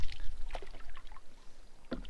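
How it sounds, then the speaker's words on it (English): A canoe paddle dips and pulls through calm water on a quiet wilderness lake, with soft splashes and drips close by and a clearer paddle stroke near the end. "This kind of paddling is the best kind."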